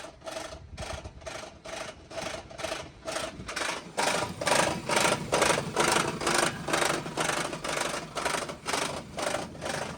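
An engine idles with a steady, rapid mechanical rhythm, then grows louder and rougher after a few seconds as the idle seems to dip and labour. It runs continuously with no voices.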